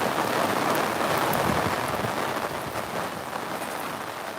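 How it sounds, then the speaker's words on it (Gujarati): Heavy rain pours down steadily in a dense, continuous hiss, loud and close, easing only slightly toward the end. "લગભગ એક કલાકથી વરસાદ ચાલુ છે"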